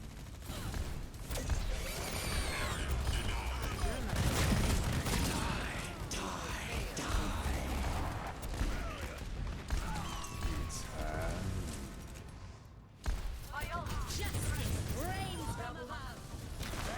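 Rocket barrage fire and explosions from an Overwatch match, a dense continuous roar of rapid blasts and mechanical clatter sustained for most of the stretch with a brief drop near the end, with speech mixed underneath.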